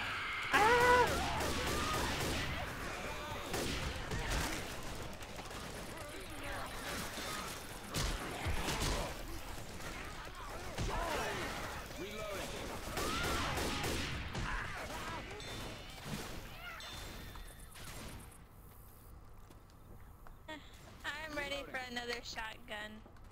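Shotgun blasts from Left 4 Dead 2 crack in bursts through a cluttered game mix of impacts and effects, with players talking excitedly over the action.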